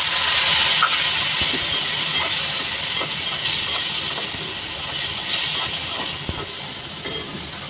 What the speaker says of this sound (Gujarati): એને ચડવા માટે આપણે થોડુંક એમાં પાણી એડ કરીશું.